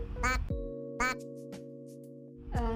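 Loud, close duck quacks in a few nasal bursts, with a steady buzzing tone holding between them.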